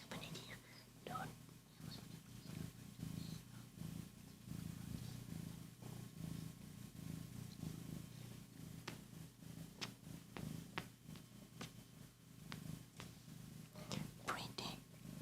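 A female cat purrs softly and steadily at close range through the whole stretch, a low continuous rumble beneath intermittent whispering in a quiet ASMR setting.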